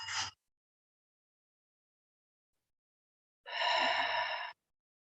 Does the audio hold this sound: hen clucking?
no